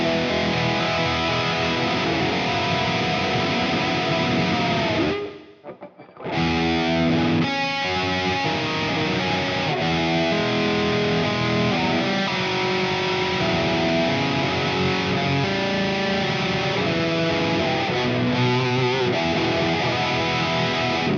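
Clean electric guitar through a Neural DSP amp sim, a clean tone on a headless guitar, playing sustained chiming chords and arpeggios up close, with a brief near-silent break early on.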